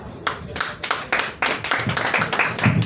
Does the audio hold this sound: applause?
yes